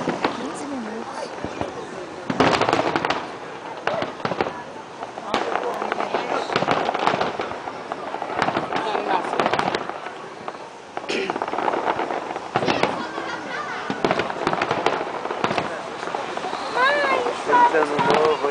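New Year's fireworks from 2010/2011 burst and crackle outdoors in repeated loud booms and popping bursts, mixed with wind noise on the microphone and people talking in the background.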